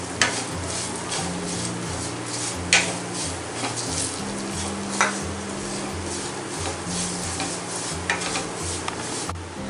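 A spoon scrapes and stirs flour in ghee in a pan for atta halwa, making a rhythmic rubbing and scraping over a gentle sizzle, with an occasional clink against the metal.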